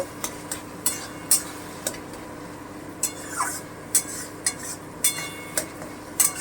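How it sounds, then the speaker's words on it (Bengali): Ridge gourd curry stirred and fried uncovered in an open pan as its water cooks off, with a spatula scraping in repeated soft strokes over a low background sizzle. "এভাবেই কষিয়ে নিতে হবে একদম তেল না ছাড়া পর্যন্ত"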